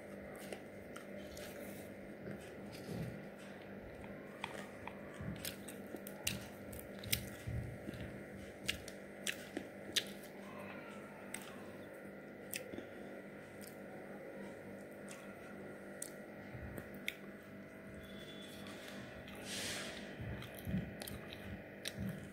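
Chitoi pitha, a Bangladeshi winter rice cake, being eaten indoors, with soft scattered chewing and biting sounds over a steady low room hum and no talk.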